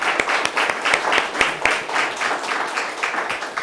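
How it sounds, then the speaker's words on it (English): A small crowd claps steadily, with sharp individual hand claps standing out over a softer wash of applause. "Let's give them a hand of applause."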